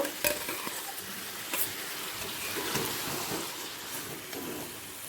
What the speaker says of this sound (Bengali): ম্যারিনেট করা চিকেনটা এবার দিয়ে দেবো দিয়ে ভালো করে কষিয়ে নেব